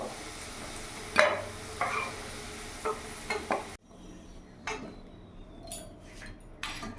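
Reddish fried potatoes are lifted out of hot oil in a pan while cooking a katla fish head muri ghonto, with scattered spatula scrapes and metal clinks over a soft sizzle, quieting midway before a few more taps.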